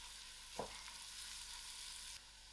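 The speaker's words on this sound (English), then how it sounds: "I'm going to add it into the oil. Give this a nice mix." Paprika, mixed herbs and cayenne pepper fry in oil with a steady, close sizzling hiss, broken early by one brief stirring scrape; no one speaks.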